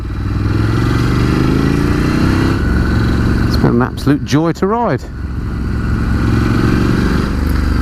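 A 2019 Ducati Scrambler 1100 with its standard exhaust drones steadily on a ride through Tuscany, a loud close engine note that carries on under and around a rider talking.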